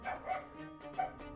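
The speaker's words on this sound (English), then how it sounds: "Dogs really be going off." Dogs barking in the Great Ace Attorney courtroom game, three or four sharp woofs in quick succession at moderate loudness, with no talk over them.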